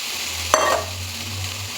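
Cleaned crabs added to a pan of cooked-down masala in oil, a sharp burst of sizzle and a clatter on contact, then a softer continuous frying hiss.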